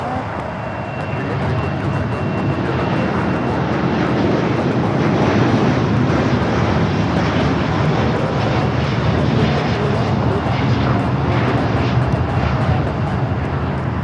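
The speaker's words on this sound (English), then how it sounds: "This is All Nippon Airways Flight 5 taking off to Tokyo Narita on the 787-9 Dreamliner" An All Nippon Airways Boeing 787-9 Dreamliner takes off from runway 25 right at Los Angeles LAX, bound for Tokyo Narita. Its loud, sustained jet-engine roar rises and holds throughout at close range.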